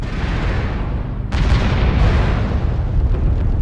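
Missile explosions pound a battle in MechWarrior Online, a dense rumbling roar that swells sharply partway through and stays loud and close to the end, with no talking.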